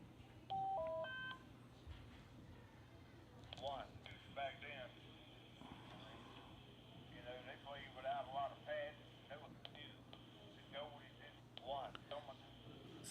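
TYT MD2017 handheld radio switching on, giving a quick run of rising electronic beeps at the start, followed by faint chirps and low hum while a person talks quietly in the background.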